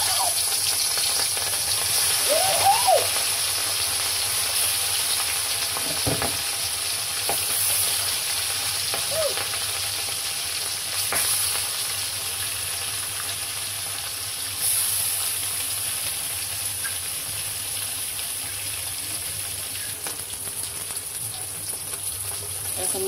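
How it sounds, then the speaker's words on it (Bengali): Pieces of rui fish rubbed with salt and turmeric fry in a wok, a steady close hiss of oil throughout with occasional louder crackles and faint clinks, and a voice briefly in the background. "এখন এক এক করে মাছটা দিয়ে দিই।"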